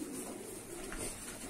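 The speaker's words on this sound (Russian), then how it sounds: "Грузинских голубей" Georgian pigeons coo in a loft in Tbilisi, soft low repeated coos layered over a constant background murmur, with no one speaking.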